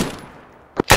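Gunfire in a military video game: two sharp nearby shots near the end after a short fading tail of earlier fire.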